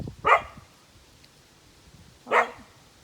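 Two sharp dog barks ring out indoors about two seconds apart, fairly close and loud against a quiet room, with no one speaking.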